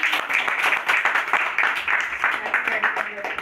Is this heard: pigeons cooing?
no